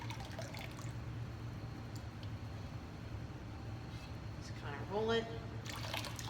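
Liquid ceramic glaze pours and trickles out of a teapot spout during dip glazing, a soft continuous drip and splash with a brief louder gush, while a person talks.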